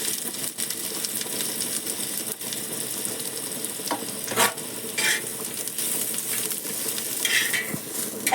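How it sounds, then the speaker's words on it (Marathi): Onion fries in oil with cinnamon, peppercorns and cloves for a peas and potato curry, a loud steady sizzle with occasional stirring knocks and metallic taps. "आपण कांदा भाजून घेऊया आता"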